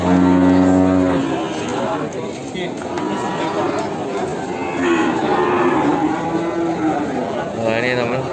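Newly arrived cattle at a sale of breeding cows with calves give a loud, close, drawn-out moo, then a second one later, while people talk over the lowing and the bustle of the pen.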